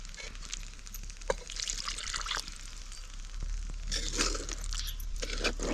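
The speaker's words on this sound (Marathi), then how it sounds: "आता पाणी घालायचं" Water being poured into a pan of vegetable curry during home cooking, a soft, faint trickling and splashing that continues throughout, with no voices.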